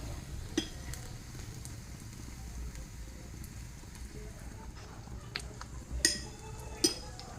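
Oil sizzles steadily under a thalipeeth of soaked chana dal frying in a pan on low heat: a soft, continuous crackle with a few sharper pops and clinks near the end.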